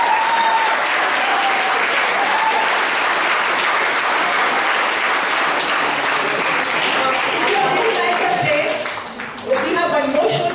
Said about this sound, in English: A big round of applause for the cast and crew.